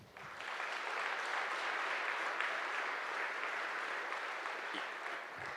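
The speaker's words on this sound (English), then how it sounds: "So I would like you to all give a round of applause to yourselves for showing up." A packed audience at the SCaLE tech conference applauds steadily for several seconds, a dense, continuous roomful of clapping that fades slightly at the end.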